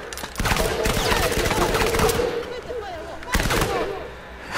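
Dense gunfire from a VR shooting game, weapons fired at a wall in rapid, overlapping bursts with a pause midway and a fresh volley near the end, loud and close.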